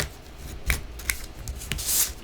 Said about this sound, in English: Go ahead and burnish that really well